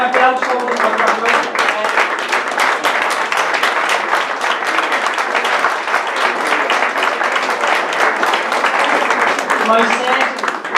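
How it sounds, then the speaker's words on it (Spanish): Audience applause for a poetry reader at a monthly poetry evening, dense steady clapping from a crowd lasting the whole stretch at an even loudness. "Moisés, un aplauso por favor."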